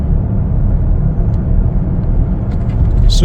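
A 2021 Chevrolet Traverse LT on the road, its engine giving a steady low rumble and whir as it drives and shifts, with faint road noise throughout and no clear talk.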